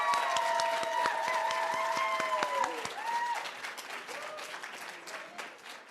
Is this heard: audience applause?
yes